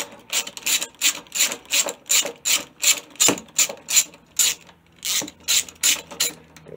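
A ratchet with a 10 mm socket works the carburetor bolts on a lawnmower, giving a steady run of close, crisp rasping clicks in even strokes, with a couple of sharper knocks between them.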